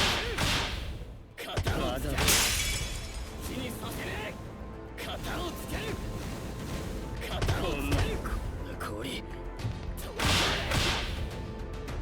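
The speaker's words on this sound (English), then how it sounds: "This attack is basically a Phosphor-powered flamethrower, which has the power to both freeze and burn the target." Phosphor-powered flamethrower attack in My Hero Ultra Rumble, repeated whooshing blasts and crackling bursts in irregular waves, with a voice talking over the action throughout.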